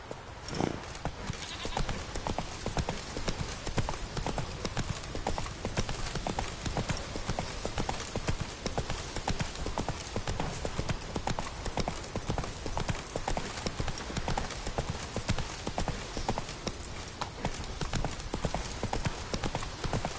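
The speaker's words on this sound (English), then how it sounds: "Whoa there, Roach." Horse hooves clip-clop steadily and close for the whole stretch in The Witcher 3: Wild Hunt on PS5, a dense, continuous trot of steps with no talk over it.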